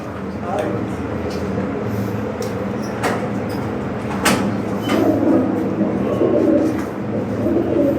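Soft pigeon cooing repeats under steady background noise and people talking nearby, with a few sharp knocks.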